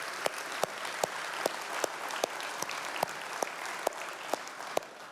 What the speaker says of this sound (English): I just want to give you all a round of applause for that.